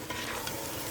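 Beef pares being stirred and mixed with onion powder in a pan, a continuous close scraping stir over a steady frying sizzle, with no voices.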